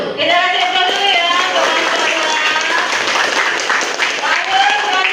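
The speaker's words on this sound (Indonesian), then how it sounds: "Kita kasih aplaus dulu ya" Classroom audience applauding after a student group's presentation, a steady dense wash of clapping lasting throughout, close and loud, with voices mixed in.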